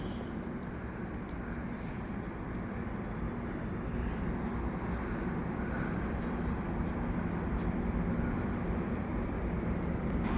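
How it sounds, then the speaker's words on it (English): An EXO commuter train rolls into the Lucien L'Allier terminal in Montreal, a steady low rumble and hum of wheels and engine that grows slightly louder midway, heard from nearby outdoors. "we have another train coming in. Probably the Candiac train."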